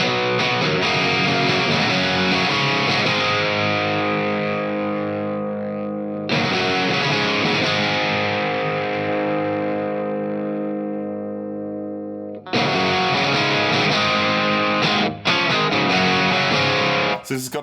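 Electric guitar played through a ToneX amp model of a 2x12 Greenback cabinet, with a touch of room reverb, rings out in long sustained distorted chords that decay slowly, re-struck twice, loud and alone.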